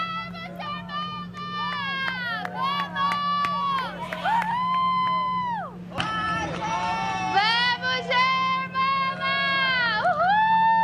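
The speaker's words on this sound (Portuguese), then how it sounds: "eu quero deixar o som ambiente, porque tem a torcida brasileira por ela" Brazilian supporters at a triathlon race in Canada cheer and shout for a triathlete, a loud, continuous wall of voices whooping and calling out in overlapping, rising and falling cries.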